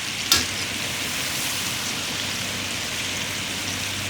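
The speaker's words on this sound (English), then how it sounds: "we're going to fry these beef strips twice" Beef strips frying in hot sunflower oil, a steady close crackling sizzle with fine popping throughout, preceded by one brief sharp clack at the start.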